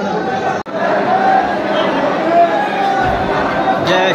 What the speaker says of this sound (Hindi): बहुत भीड़ है ना यार